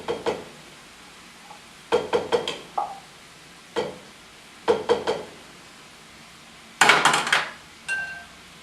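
A skinny little spatula scraping and clinking against a dish while making Chicago deep dish pizza, sounding as a series of short, sharp metallic scrapes and taps in irregular clusters, close and moderately loud.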